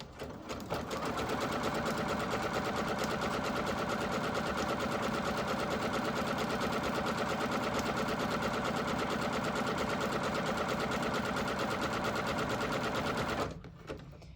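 A sewing machine runs steadily in one continuous zigzag stitching pass around a fabric pocket on a drawstring bag. The close, even motor whir and rapid needle clatter continue unbroken until it stops near the end.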